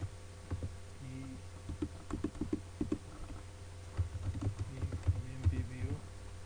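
Someone types code on a computer keyboard, producing irregular close key clicks in quick bursts with a soft background hum throughout.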